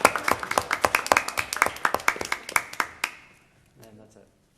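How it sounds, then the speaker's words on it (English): A meeting audience claps for an award winner, with a run of sharp, irregular hand claps for about three seconds, then it fades into quiet with a brief murmur of voices. "I'm pretty sure we all wanted to clap for Melissa and Melissa for their award"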